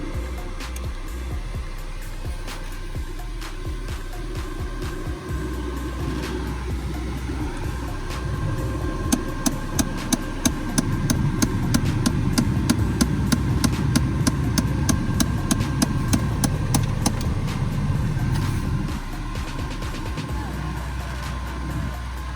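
Car defroster fan blowing steadily inside a vehicle while the engine idles, a continuous broadband whoosh over a low rumble that swells louder midway as the fan speeds up, with faint ticking clicks.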